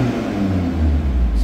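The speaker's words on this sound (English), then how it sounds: "So really nice noise from the five cylinder" A 2.5-litre five-cylinder Audi TT RS in comfort mode, revving hard on the soft limiter, a loud close deep engine drone rising slightly in pitch, heard alone.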